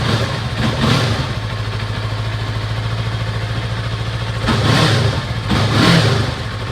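Yamaha R3 motorcycle engine idling after a couple minutes of warm-up on a snowy day, a loud, close, steady mid-pitched drone with a few brief swells in revs.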